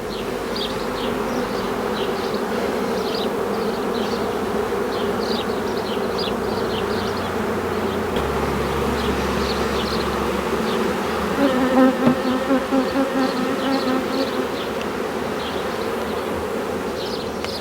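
A honeybee swarm being moved into a nucleus hive, a dense continuous buzz of many bees close by, rising slightly near the end, with no talk.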